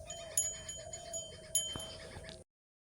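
A dog whimpers and yips softly, in short, faint, uneven cries close by, before the sound cuts to silence.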